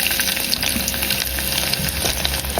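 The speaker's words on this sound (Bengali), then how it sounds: "এখন আমি সেই মাছ ভাজি করা তেলে পেঁয়াজ দিয়ে দেব" Chopped onions fry in oil left over from frying fish, giving a dense, loud, crackling sizzle that stays steady throughout, with faint stirring and no voices.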